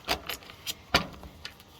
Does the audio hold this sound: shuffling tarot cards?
yes